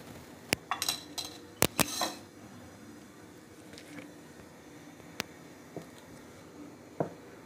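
A spoon clinks against a pan while ghee goes in for quinoa biryani, giving a few sharp metallic taps and scrapes clustered early, then sparse light knocks.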